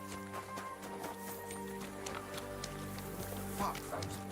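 Horse hooves clip-clopping in Kingdom Come: Deliverance II, a steady run of soft close hoof knocks under ongoing conversation between characters.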